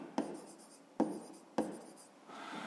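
Numbers are being written down by hand, giving three distinct pen taps or strokes on paper with quiet scratching between them. The writing is close and faint.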